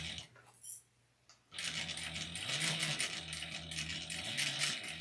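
A sewing machine stitches fabric for a small wristlet, starting after a short quiet pause and then running in a close, rapid mechanical rattle with slight changes in speed as it sews.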